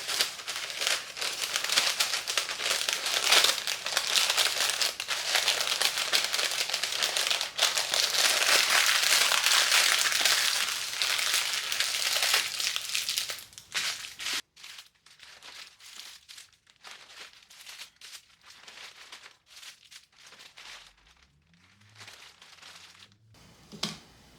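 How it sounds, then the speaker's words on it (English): Breakfast sandwiches are wrapped in parchment paper, with loud, close crinkling and rustling of the paper for about fourteen seconds, followed by quieter sporadic crackles and handling noises and a faint low hum near the end. "I'm going to wrap them in parchment paper."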